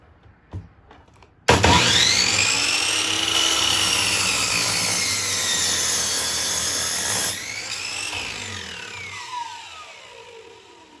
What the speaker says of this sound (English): we're going to start sawing now.